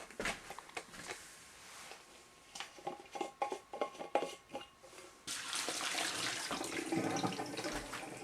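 Water from a thermos drains into a kitchen sink, first as faint trickles and splashes, then as a steady, louder rushing pour over the last few seconds.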